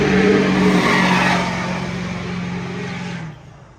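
A loud car revs and accelerates somewhere in a residential neighborhood, its engine roar strong at first, then easing and fading away.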